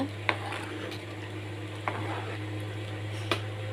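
Spoon scraping and stirring tamarind fish gravy in a clay pot a few times, with soft bubbling and a steady low hum underneath.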